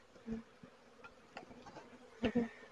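Honeybees around a hive under inspection buzz in short bursts close by, a few loud passes standing out against a quiet background.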